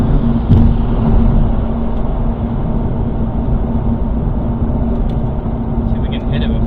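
A BMW M2 on a staggered wheel setup rolls along the road through a compression dip, a steady loud engine and road rumble with tyre noise filling the cabin and a few faint knocks.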